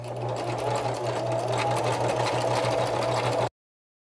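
A sewing machine runs a zigzag stitch along the edge of layered fabric for a Christmas card, a steady close rapid mechanical hum with rhythmic needle ticking that stops abruptly, no talk.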